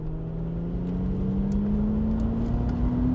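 A 2001 Audi RS4 pulls hard on a dry road, its engine note climbing steadily in a smooth, continuous drone heard from inside the cabin, with no talking over it.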